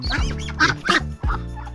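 A small duckling (itik) swimming gives a series of loud, close quacking calls in quick succession, with a chicken mentioned nearby in a backyard setting.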